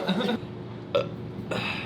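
Three short, gurgling burps, close up, with brief pauses between them.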